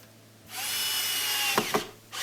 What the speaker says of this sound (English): We put those two Phillips head screws back in to hold it at the top into the cabinet